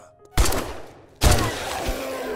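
Two loud, sharp gunshot blasts in the video game 7 Days to Die, about a second apart, each followed by a lingering rumbling decay, with no voices.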